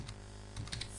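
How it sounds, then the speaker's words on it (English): A computer keyboard typing an email, a few quick, quiet keystrokes tapped close by in a short burst over a faint electrical hum. "quite simply just type in the message"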